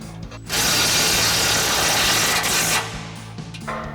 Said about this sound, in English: So we'll grab our 13mm socket on our impact and a 13mm wrench.